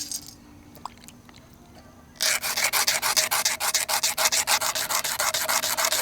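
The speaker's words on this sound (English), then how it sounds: "you can see I'm using the sandstone slick" After a quiet start, a sandstone slick begins rubbing back and forth against a soft shell being shaped for a necklace, a close, rhythmic, fast scraping that continues steadily to the end.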